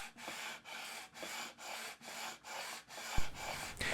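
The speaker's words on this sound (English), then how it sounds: "I'm using 320 grit sandpaper, and I'll sand back and forth" Guitar frets on a neck are sanded back and forth with 320 grit sandpaper, producing a steady rhythm of about eight close, raspy strokes, each rising and falling, with a light tap near the end.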